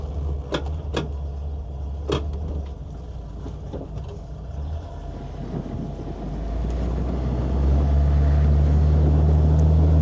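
A 1972 Ford Econoline Custom 200 pop-top camper van drives off, its engine and road rumble building into a steady, louder drone with wind noise and a few knocks early on.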